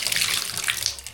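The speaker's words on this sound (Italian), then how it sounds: "l'acqua non è che vada più di tanto. Questo è il massimo." Water running from a hotel bathroom tap in Keren, Eritrea, a close, continuous splashing stream with no voices.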